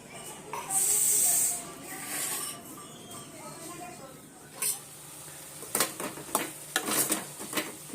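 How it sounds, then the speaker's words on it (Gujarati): Onion and tomato hit a hot pan with a loud hissing sizzle, followed by softer frying and sharp clinks of a utensil against cookware while voices are heard. "ડુંગળી અને ટામેટું વઘારી દીધું છે મમ્મીએ."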